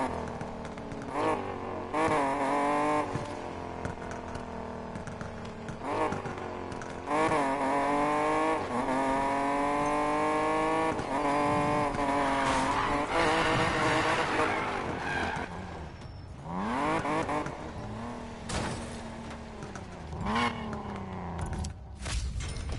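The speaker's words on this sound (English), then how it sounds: "And now we're gonna go and do some more racing." Race cars in Need for Speed Payback roar through rising and falling engine revs with gear shifts, repeated tire squeals and skids, loud and continuous in the foreground without talk.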